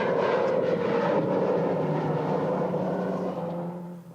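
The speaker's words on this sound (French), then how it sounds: "Des avions sont affrétés spécialement pour l'assistance et la sécurité." An aircraft chartered for Dakar Rally assistance and safety drones steadily overhead, a loud sustained roar that fades slightly toward the end.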